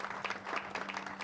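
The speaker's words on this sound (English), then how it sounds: "Let's give them all a round of applause for the great job that they have done." Sparse clapping from an audience at a university aerospace building topping-out ceremony, faint and brief, with a low steady hum underneath.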